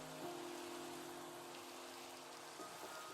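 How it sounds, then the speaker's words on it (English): Rain falls in the video game Minecraft as a steady, dense patter of drops on surfaces. It is soft and continuous throughout, with a low hum beneath it. "the rain in this game is amazing. It's like actually amazing."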